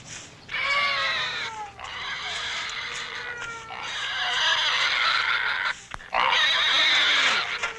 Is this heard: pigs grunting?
yes